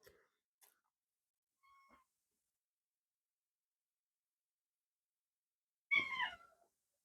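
Cat meowing in a quiet kitchen: a few faint small squeaks early on, then one clear, close meow near the end.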